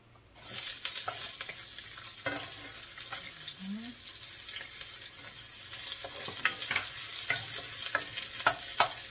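Onion sautéing in a pan for bitter melon with ground beef, a steady close sizzle with scattered stirring scrapes and clicks throughout, a brief voice at one point.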